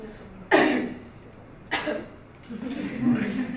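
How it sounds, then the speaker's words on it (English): Two forced coughs from a patient during an examination, one sharp and one softer, followed by someone speaking nearby. "so what you do is try to cough, you know, like this."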